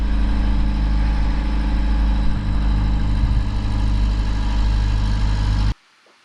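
A steady diesel-like engine drones loud and close as it motors a 40-year-old wooden trimaran across the calm Pacific, constant throughout before cutting off abruptly near the end.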